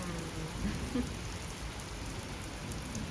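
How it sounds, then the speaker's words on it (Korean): Heavy rain pours steadily, a dense continuous wash with no break, heard alone with no voices. "비가 엄청 오네요"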